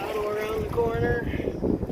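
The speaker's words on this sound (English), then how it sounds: "Ooh, right into that wind." Wind buffets a paddled boat on the water at a provincial park, a steady rushing roar with a voice carrying over it in a short two-second stretch.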